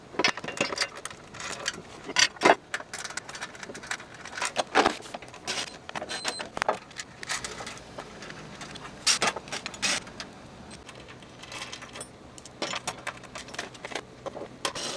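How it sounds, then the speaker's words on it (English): Nuts and bolts are handled while sidestep brackets are fitted to a 5th Gen Toyota 4Runner, producing scattered close metallic clinks, jingles and taps at an irregular pace. "we're going to attach these to the bottom using the nuts and bolts they provided"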